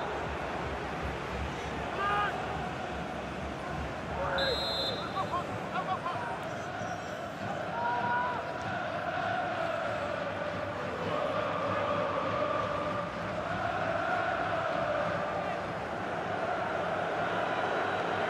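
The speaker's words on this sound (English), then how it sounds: "the noise you're hearing is from the away supporters" Away football supporters in a stadium crowd during a KFPL Cup match, a steady broad roar of chanting and noise lasting throughout, moderately loud with no single voice standing out.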